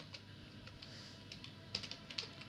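Quiet typing on a computer keyboard during data entry into an Excel spreadsheet, with light irregular key clicks over a soft hum and two slightly sharper taps near the end.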